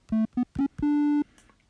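Triangle-wave oscillator of a Yonac Magellan 2 software synth playing four clean, steady tones, three short notes followed by one longer held note, loud and alone.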